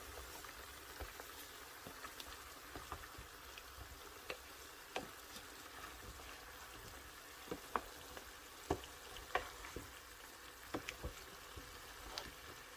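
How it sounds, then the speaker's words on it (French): Potatoes being stirred in a pan, heard as faint scraping and clicking against a low simmering sizzle. The sound is quiet and intermittent, with scattered soft knocks throughout. "Les pommes de terre. Voilà, je vais remuer."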